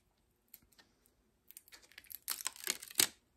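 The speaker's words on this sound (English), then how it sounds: "now I'm gonna peel off the sticky backer." A sticky backer is peeled off a Velcro sanding pad patch for a DeWALT sander, making soft crackling and tearing sounds that build into louder ripping bursts near the end, close and alone.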